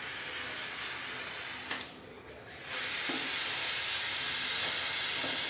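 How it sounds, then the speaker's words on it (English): Hair care spray misted onto a wig in a short hissing burst, close and fairly loud, over a steady background hiss. "We're gonna use the Wig Dealer Luxury Hair Care Spray, just to spray on this wig."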